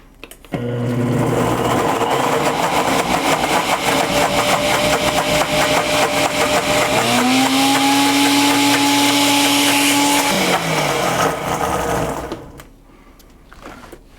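A countertop blender whirs steadily for about eleven seconds, mixing an oil-free sesame peanut ginger dressing, its motor pitch rising partway through as the speed is stepped up, then spinning down to quiet; no one speaks.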